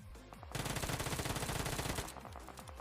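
Rapid automatic gunfire in PUBG Mobile, a dense sustained burst of roughly a second and a half finishing off an enemy, loud and close, with quieter game sounds before and after.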